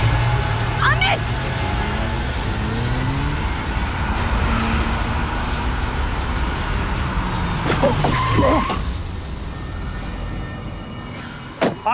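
A car brakes hard and its tyres skid with a long, loud squeal, nearly hitting a man in the street. Shouting voices rise over the sustained screech, and the noise drops away near the end.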